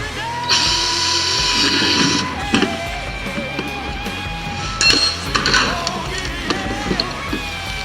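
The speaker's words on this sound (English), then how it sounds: "I'm just going to go ahead and drill them out" A power drill whines in bursts with its pitch sliding as it drills holes in a plastic bucket, mixed with clinks and knocks of plastic being handled nearby.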